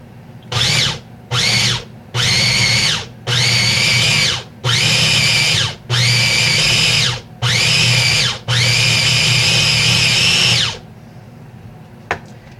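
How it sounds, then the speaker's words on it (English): Cuisinart food processor pureeing a cooked pork chop with some liquid, seven loud whirring pulses of rising length, the last running several seconds before stopping, with a clatter just after. "I don't know why things kind of chop and go better in this Cuisinart if it's got some liquid"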